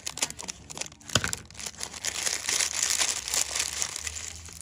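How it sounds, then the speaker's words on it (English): Trimming the edge of a gift bag gives soft crinkling and a sharp snip, followed by rustling and crumpling paper, close and moderately quiet, with no talking. "I'm going to gently trim the edge of this."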